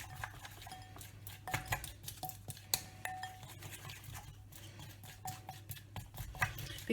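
Glue and rose gold acrylic paint are being stirred together into slime, giving soft, irregular scraping and clinking taps from the mixing utensil against the bowl. The sounds are close, quiet and come without any talk.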